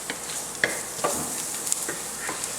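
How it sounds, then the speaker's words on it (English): Garlic added to heated oil in a deep pan, frying for refried beans, gives a steady close sizzle with a few brief stirring scrapes and small pops over the top. "we've got some oil that's heated up in our deep pan. So we are going to add in our garlic."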